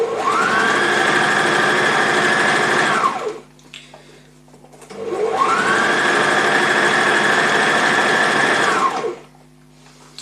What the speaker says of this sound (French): je vais coudre tout le bas de la jupe après mon ruban